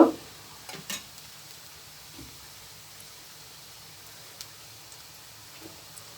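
Onions frying in a pan for a tomato fish curry with baile fish give a soft, steady sizzle, broken by a few light scraping stirs and clinks, quiet and close with no voices.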